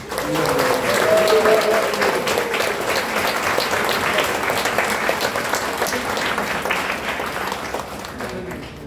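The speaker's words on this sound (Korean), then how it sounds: "우리 큰 박수로 한번 응원하겠습니다" A church congregation claps together in a long, sustained burst of applause, loud at first and easing slightly as it carries on, with a voice briefly heard over it.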